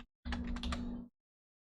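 A short, steady burst of rapid typing on a computer keyboard, close and clear, lasting under a second between stretches of silence.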